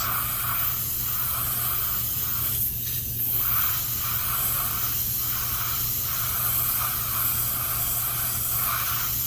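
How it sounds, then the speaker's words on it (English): A steady hiss of spray paint on a chrome piece of a Chevelle runs throughout, with faint pulsing as the can is moved, over a constant low hum. "I'm spraying this top piece of chrome"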